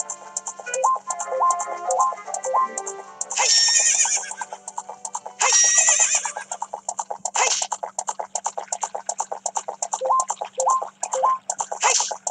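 Horse in the 3DS video game Zelda Ocarina of Time whinnying twice in bright, synthetic bursts, joined by fast, regular clip-clop hoofbeats of the galloping mount, all game audio with no talking.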